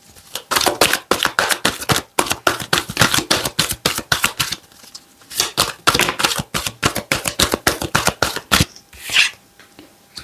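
Playing cards are shuffled and drawn in quick bursts of crisp riffling and flicking, close and fairly loud, with short pauses between rounds and no talking.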